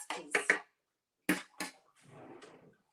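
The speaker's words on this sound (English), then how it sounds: "Now, I'm going to whisk." Caesar salad dressing whisked in a bowl, a brief scratchy rustle of the whisk against the bowl after a few short bursts of talk.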